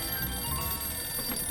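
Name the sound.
telephone ringing in the video game Sam and Max Save the World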